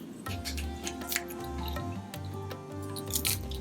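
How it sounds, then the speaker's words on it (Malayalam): Half a teaspoon of mustard seeds splutters in hot coconut oil: scattered, sharp little pops and crackles at uneven intervals over a faint low hum, close and fairly quiet. "എണ്ണ നന്നായിട്ട് ചൂടായിട്ടുണ്ട്. അതിലേക്ക് ഞാനൊരു 1/2 ടീസ്പൂൺ കടുക് ഇടുന്നു."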